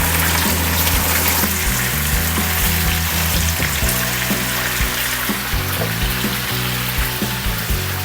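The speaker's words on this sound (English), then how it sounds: "Okay, when onion will be almost fried, we put some ketchup and fry it." Chopped onion sizzles and fries in a pan for a goulash, a dense, even crackle that stays loud and close throughout, with faint bubbling underneath and nobody speaking.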